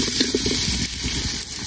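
Chopped onion hits hot oil in a Bengali kitchen while cooking fish head with young bottle gourd, giving a loud, steady close-up sizzle and hiss that runs without pause.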